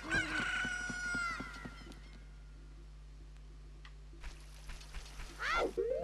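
A chicken crows in the video game Ocarina of Time, a loud, squawky rising call at the start, with fainter clucks and another sharp squawk near the end over a low steady hum.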